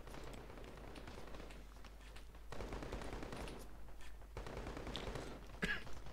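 Distant gunfire rattles on and off in a Call To Arms skirmish battle involving Russian forces, a dense crackle of shots that swells and fades with no clear single reports.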